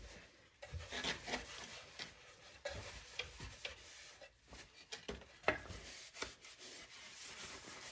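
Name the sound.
wiping excess tung oil off a wooden box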